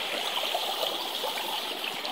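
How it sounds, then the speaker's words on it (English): Water in a freshly widened creek flows steadily with a continuous bright rushing and trickling, close by and alone, with no talk. "at least we've opened up the fucking creek and it's wider now"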